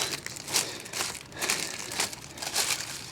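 A plastic bag crinkles and rustles in bursts as it is handled close by, beside a 2001 Mercury Mountaineer brake master cylinder during a brake job, with no talking.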